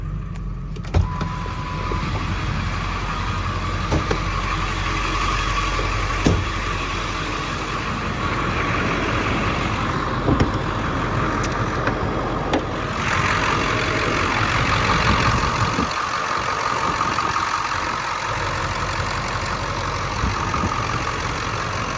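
A 1999 Ford F-250 extended cab 4x4 with a 7.3L diesel idles steadily and loudly up close during a blow-by check, a continuous low rumble with a few clicks and a brief change in tone partway through.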